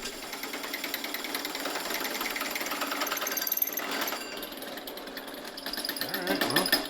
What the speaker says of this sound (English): So I'm trying to cut a hole in this aluminum chunk right here